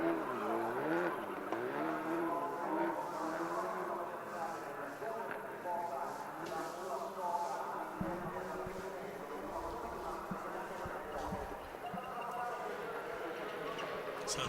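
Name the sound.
rally cars racing, Skoda Fabia and Citroën C3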